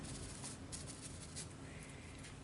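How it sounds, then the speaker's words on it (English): A dry brush scuffs steadily across the tooth of textured paper with white paint, a soft continuous scratchy rasp with faint brighter strokes, close and alone. "You can hear it scuffing the tooth of the paper."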